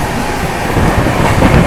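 Duronto Express with ICF coaches running through Bilimora station, a loud steady rumble and rattle of wheels on rail with rhythmic clatter, close and continuous throughout.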